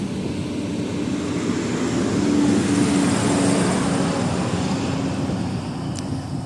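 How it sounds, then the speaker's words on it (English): A heavy truck rumbles past nearby on a country road, a steady low engine roar that swells in the middle and slowly fades. "There's a loud truck."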